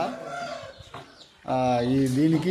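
Parrot Nose breed chickens, including a young rooster and laying hens, cluck and call in short bursts nearby, with a louder drawn-out call toward the end and a voice audible among them.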